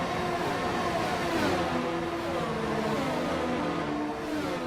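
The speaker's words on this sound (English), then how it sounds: "Look at the queue of cars here" A queue of racing cars in a sim racing game at the Red Bull Ring, a dense, continuous blend of engine drones rising and falling in pitch as they run close together.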